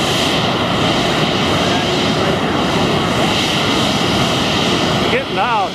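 A post-World War II aircraft flying past at an air show, a loud continuous engine roar holding steady throughout, with a brief pitch sweep near the end.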